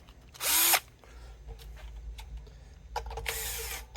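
A Bosch power drill runs in two short, loud bursts at a guitar repair bench, a high whine near the start and another near the end, with quiet workshop handling noises between them.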